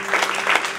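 A church congregation cheers and applauds at a jubilee worship service, with dense, steady clapping and voices mixed together that keep up at even loudness through a short burst.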